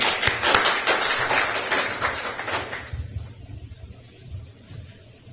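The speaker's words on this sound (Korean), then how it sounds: "박수로 맞이해 주십시오." Church audience in a Korean year-end worship service applauding to welcome a speaker, a full wash of clapping for about three seconds that fades, leaving low murmuring and room noise.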